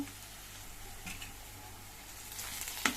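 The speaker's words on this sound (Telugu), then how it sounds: "బాగా వేగుతున్నాయి చూడండి" Chickpea puri batter frying in hot oil: a steady, quiet sizzle with soft patter and occasional brief crackles, heard close with no talking.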